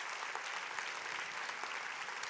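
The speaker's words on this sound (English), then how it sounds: "give Forever a huge round of applause" Steady applause from a large audience, dense continuous clapping at even loudness with no talking.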